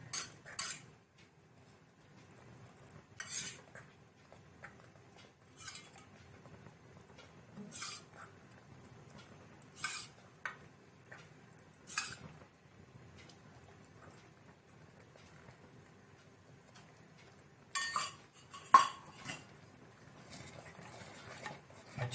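A spoon stirs ghee into sweet pongal in a metal pot, giving intermittent clinks and scrapes against the sides, close by over a quiet background.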